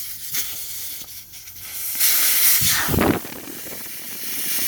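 Air hissing out of a Honda Civic mk1 tyre through the open valve with the core removed, a close rushing hiss that swells loudly for about a second, with handling noises around it.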